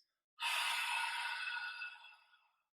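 A single long, breathy exhale pushed from the back of the throat during a Pilates breathing exercise, soft and close, trailing off gradually with no talk.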